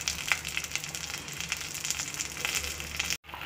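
Small shallots and garlic sizzle and crackle steadily in hot oil in a pan for a traditional Tamil tamarind curry, a close, continuous frying hiss with scattered pops that cuts off abruptly near the end.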